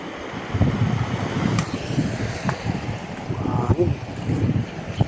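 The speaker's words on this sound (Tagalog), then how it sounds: "Mahangin." Wind gusts across a microphone outdoors in Batangas, giving steady low buffeting rumble with brief knocks, while people talk intermittently underneath.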